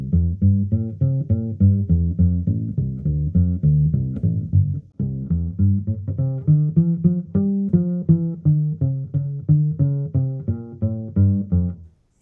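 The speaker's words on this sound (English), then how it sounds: "I can just play straight ahead and boom, it sounds right on this bass." Bass guitar played straight ahead in a steady run of plucked notes, close and clear with an even rhythm and a brief pause near the middle.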